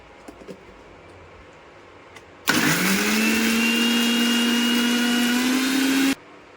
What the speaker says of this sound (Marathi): आता ह्या सर्व साहित्याचं आपण मिक्सरमध्ये बारीक वाटण करून घेणार आहोत